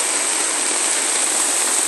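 A large drain runs full of rushing rainwater during a heavy downpour in the Konkan, a loud, constant roaring wash with no pauses or voices.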